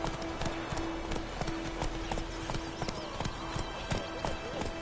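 Horse hooves clip-clop at a steady trot in a video game, a regular series of sharp close knocks over ambient game sound and a sustained tone, with a brief voice in the background.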